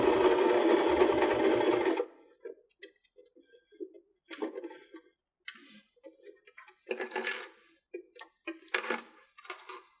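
A sewing machine stitches a cork strap purse in one steady, close run for about two seconds, followed by scattered light clicks and handling taps of fabric and machine.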